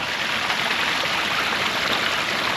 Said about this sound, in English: we've got the waterfall here